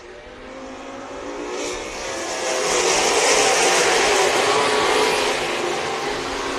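RaceSaver sprint cars racing at Crawford County Speedway, a loud engine roar that swells and peaks midway as the pack approaches, then holds at a high, broad drone with no speech.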